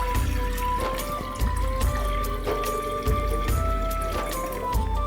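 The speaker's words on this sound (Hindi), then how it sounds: "जग में पानी डालेंगे 2 गिलास" Water poured from two glasses into a jug while making shakar cola sharbat, a steady splashing trickle running without pause under a faint repeating background hum, with no voices.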